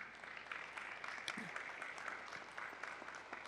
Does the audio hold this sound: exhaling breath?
no